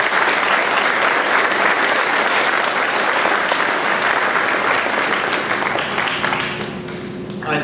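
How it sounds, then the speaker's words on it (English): An audience at a school blue ribbon ceremony applauds the bus drivers with dense, steady clapping that fills the room, easing slightly near the end. "round of applause for them, please"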